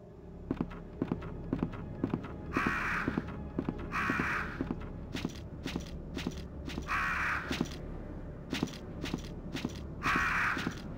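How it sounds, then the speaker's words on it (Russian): Crows caw in Biohazard 2 (Resident Evil 2, PC) over a steady game ambience, a few bursts of hoarse calls spaced through the scene between sharp clicking footsteps, with no talking. "здесь вороны"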